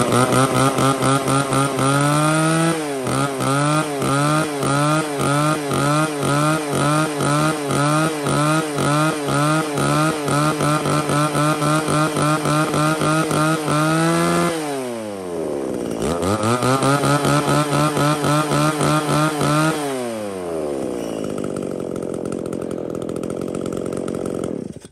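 Vintage Japanese chainsaw from a lot of used Echo Kioritz, Shindaiwa, Komatsu and Hitachi saws, cutting a 15–20 cm wood log: loud close two-stroke engine revving and bogging through the cut, easing off near the end, with no talk.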